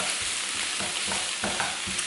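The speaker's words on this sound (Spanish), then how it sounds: "Lo dejamos sofreír un ratito" Chicken fries in a pan with sweet paprika, giving a close, dense sizzle broken by a few scraping stirs, with no voices.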